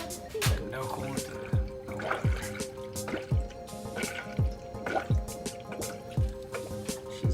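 Coolant glugs into the new Mishimoto X Line radiator of a 2011 Mitsubishi Evo X GSR, making a steady rhythm of hollow bubbling gulps about every half second, close and moderately loud.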